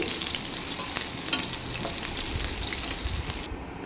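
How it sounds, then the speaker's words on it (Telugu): Onions sizzle steadily in hot oil in a pan, with light stirring and scraping as they brown for a Kolkata-style chicken biryani. The frying is close and constant, and no one speaks. "ఇందులో కొద్దిగా ఆనియన్స్ వేసి బాగా ఫ్రై చేయాలి ఎర్రగా ఫ్రై చేసి తీసేయాలి"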